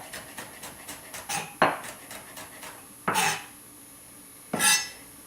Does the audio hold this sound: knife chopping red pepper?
yes